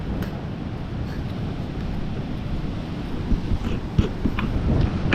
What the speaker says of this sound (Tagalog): Hindi po tayo makapag-vlog mga kaidol dahil sa sobrang lakas ng hangin at bagyo